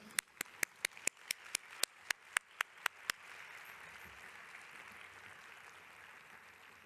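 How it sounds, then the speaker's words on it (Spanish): Applause for a speaker at a nutrition congress workshop begins as a dozen sharp, evenly spaced single claps close to the mic over about three seconds, then softens into faint distant clapping. "Demos un fuerte aplauso a Carmen Horno."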